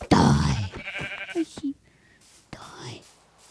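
A Minecraft sheep bleats twice in short, wavering calls, with someone speaking around them and another in-game sound at the end.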